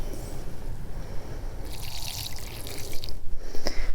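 Water poured out of a glass container, a steady trickling splash under a constant background noise, with a faint clink near the end.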